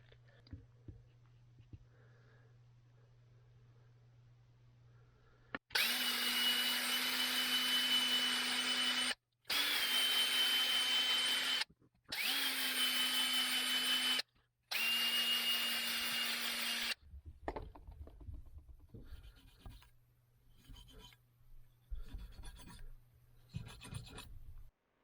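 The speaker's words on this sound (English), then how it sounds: "we'll run them back and forth a few times with our drill." A power drill whirs in four loud bursts of a few seconds each with short pauses as it runs a ball hone through the valve guides of a Japanese dirt bike engine, followed by quieter scraping and handling noises.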